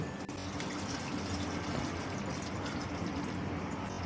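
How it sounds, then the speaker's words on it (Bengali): Water is poured in a steady, splashing stream into a pan of Punjabi alur dom made with whole crushed potatoes, close and continuous throughout. "এবার অল্প করে আমি জল দিয়ে দেব"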